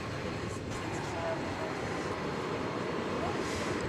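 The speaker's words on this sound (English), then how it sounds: "Airbus A321." An Airbus A321 airliner from Phoenix arrives at DFW airport at night, a broad steady engine roar holding evenly throughout, with faint voices beneath.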